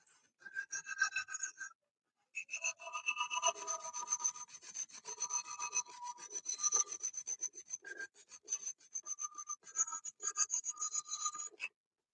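Sandpaper is rubbed against the hard plastic bumps of a puzzle cube clock in quick, faint back-and-forth strokes, in several bursts separated by brief pauses.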